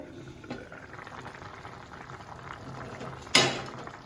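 Beef curry, Jaffna style, simmers under a lid in a pot, giving a steady low bubbling with small pops and a sharper clatter near the end, heard close with no voices.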